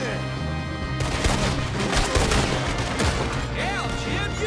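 Gunfight in Red Dead Redemption 2, rapid cracking gunshots mixed with game music and background noise, fairly loud and continuous with a voice heard briefly.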